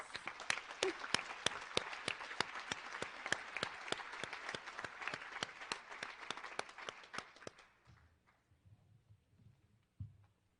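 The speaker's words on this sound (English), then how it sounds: "Let's give them a warm round of applause." An audience at a UN Women session on gender equality applauds in a steady burst of claps for several seconds, fading out as a low voice begins to speak.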